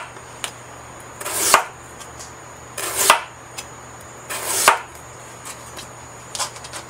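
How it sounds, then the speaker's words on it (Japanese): A knife slices daikon radish thinly on a cutting board in three slow bursts of rapid crisp cuts, each ending in a firmer tap against the board, with scattered lighter taps in between, close and clear without talk. "まずは横向きに大根を薄切りしていきます"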